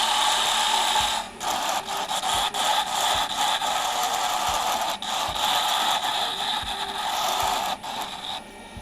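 A wood lathe turns a pen blank under a carbide tool, giving a close, continuous scraping and rasping with a steady rhythmic rattle and brief dips where the cut lifts off the wood.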